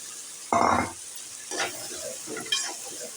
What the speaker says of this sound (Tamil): சுண்டலை சேர்த்துட்டு நல்லா கலந்து விட்டுக்கரலாம்